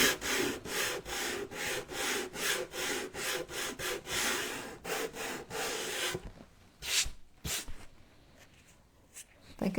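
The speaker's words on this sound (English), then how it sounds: "I'm going to take my sander and sand back the edge where I put the wax." Wood being sanded back along a waxed wooden edge with an electric sander, a close, steady run of rhythmic abrasive strokes for about six seconds before stopping, followed by a few sparse scrapes.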